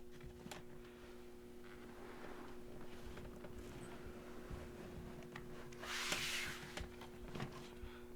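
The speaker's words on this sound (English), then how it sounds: "we're going to tuck the combing rubber into the groove in the top of the combing" Combing rubber is pressed and tucked into the groove along the top of a folding kayak's cockpit combing, giving soft, faint rubbing and scraping in short strokes in an otherwise quiet space.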